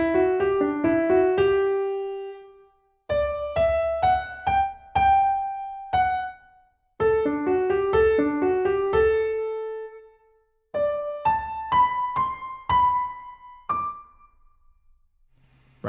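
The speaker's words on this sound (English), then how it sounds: "So that's basically the first 4 bars there." Solo piano right-hand melody across four bars, phrases of quick notes followed by held ones, each phrase separated by short gaps, close and clear with nothing else heard.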